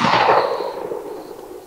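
A single-shot .410 shotgun fired at a target on an outdoor range: one sharp, loud report that rings out and decays over about a second and a half, with no talking.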